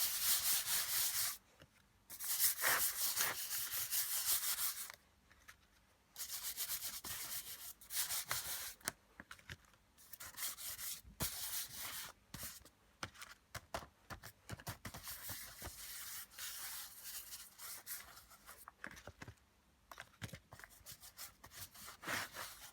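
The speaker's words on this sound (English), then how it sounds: "I'm just going to cover the page in paint" Brushing and rubbing paint across a journal page: a steady scratchy, papery swishing close by, repeating in bursts with brief pauses, and no talking.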